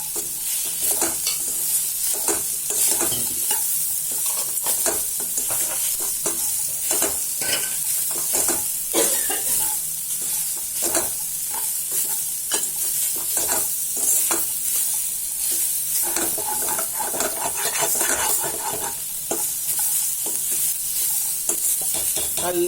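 Peas, beans, carrot and cabbage sautéing for vegetable soup, a steady loud sizzle broken by constant rhythmic scraping and stirring of a spatula against the pan.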